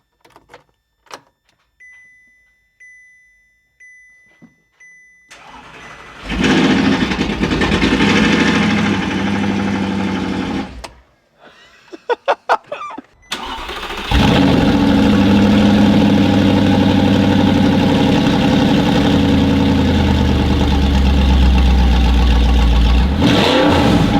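An Audi R8 engine starts with a few cranking bursts, then catches and settles into a loud, steady, rumbling idle close by.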